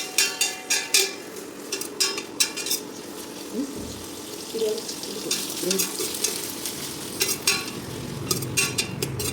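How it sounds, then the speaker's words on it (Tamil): Onions fry in a pan with a low sizzle while a spoon repeatedly clinks and scrapes against the metal in uneven bursts, close and moderately loud. "அது நல்லா பொரியுது."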